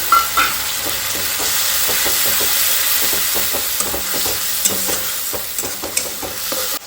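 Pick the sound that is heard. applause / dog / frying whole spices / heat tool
frying whole spices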